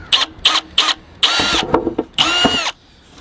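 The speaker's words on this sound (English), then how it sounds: "I'll get out the drill and I'll begin today's work." Several short bursts of a power drill whirring, then two longer grinding runs as a large bit cuts through a thin plastic bonsai pot, loud and close.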